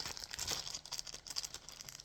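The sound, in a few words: opening crinkly slime package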